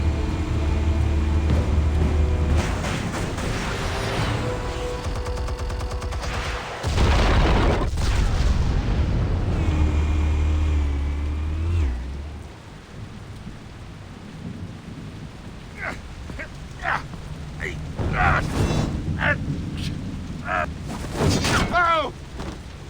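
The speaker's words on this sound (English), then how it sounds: "Explosives armed. Fire when ready." Explosives detonating in the Batman Telltale series video game, loud deep booms and rumbling blasts with crackling debris through the first half, then sharper scattered impacts and bursts later, with a voice speaking briefly.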